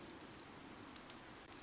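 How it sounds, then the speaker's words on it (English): Steady rain patters softly on the ground in Fire Emblem: Three Houses, an even, faint wash with no voices. "Because of the rain"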